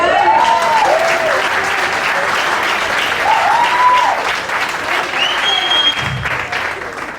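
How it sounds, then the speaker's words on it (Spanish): Church congregation applauding during a pastor's sermon, a steady dense wash of clapping hands that carries on for several seconds, with a few voices and faint tones rising above it. "Un aplauso,"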